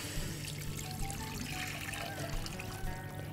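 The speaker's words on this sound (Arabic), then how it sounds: "هاخد المرقه بتاعه قشر الجمبري انزل بيها هنا" Shrimp-shell broth is poured into a pot in which shrimp were sautéed, making a steady liquid gush and trickle. It runs continuously at a moderate, close level and no one speaks.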